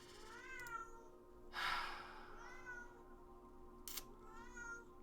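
A pet cat meows several times, drawn-out whining calls spaced across the stretch, with a couple of sharper bursts in between, fairly close and on its own with no talk.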